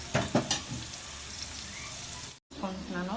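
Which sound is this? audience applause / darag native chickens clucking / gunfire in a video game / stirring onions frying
stirring onions frying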